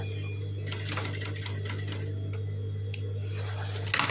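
Sewing machine stitching a cloth lunch bag, a close mechanical rattle of rapid needle strokes over a steady motor hum, with short pauses and a sharp click.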